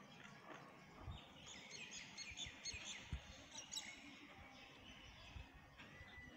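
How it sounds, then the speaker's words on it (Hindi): Small birds chirp and tweet in scattered bursts around an outdoor mosque courtyard, moderately near, with steady background noise and no talking. "परिंदों के चहचहाने की आवाज़ें भी आ रही हैं।"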